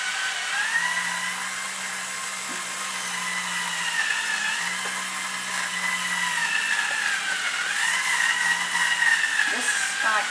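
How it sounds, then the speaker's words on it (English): A Lego EV3 craft tool machine drills a small hole with a steady, high whirring motor hum that continues throughout. A low tone rises and falls at intervals, and a person talks quietly in the background. "the drilling can be faster than that"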